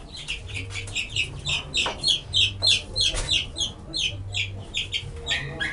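Silkie chicks cheep and cluck steadily in a dense, close chorus of short repeated calls, with a low hum and occasional wing flutters underneath.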